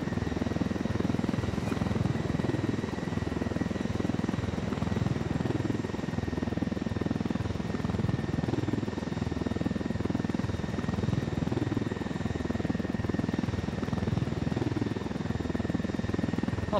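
A helicopter in Ghost Recon: Wildlands flies with a constant, loud rotor thrum and engine drone that hold steady throughout, close and unbroken, with faint talk underneath at times.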